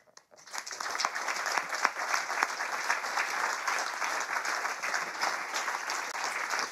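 Conference audience at a Joomla developer event applauds, dense sustained clapping that swells quickly after a brief pause and holds steady and fairly loud throughout.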